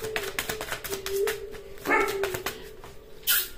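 A pet dog gives several short barks and yips in a home, moderately close, set against a steady hum.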